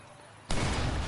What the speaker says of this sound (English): Explosion heard.